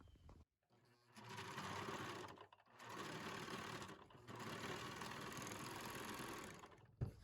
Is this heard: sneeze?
no